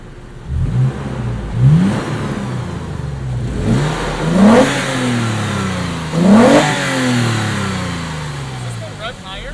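A Toyota FJ Cruiser engine revs up sharply several times, each burst rising in pitch and then falling back to a steady idle, close and loud.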